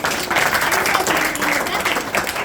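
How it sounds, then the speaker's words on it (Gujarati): An audience at a school annual day at Shri Saraswati Vidyalaya claps steadily, a dense, even patter of many hands filling the hall, with faint crowd voices mixed in. "તો જોરદાર તાળીઓ સાથે આવકારો"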